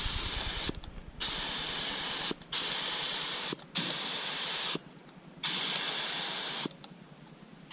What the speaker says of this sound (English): So you have to start spraying while the gun is moving